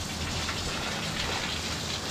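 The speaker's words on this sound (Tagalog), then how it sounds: "Ang ulan." Steady rain falls in a rural province setting, a dense, continuous hiss of drops on surfaces with no pauses, moderately loud and even throughout.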